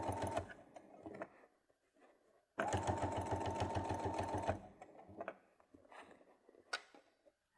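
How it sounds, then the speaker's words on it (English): Domestic sewing machine stitching a bag seam, running in a few bursts: short runs early, then a long steady loud stretch in the middle, followed by quieter handling clicks and fabric rustle, no talk. "You can sew it the other way up if you had to"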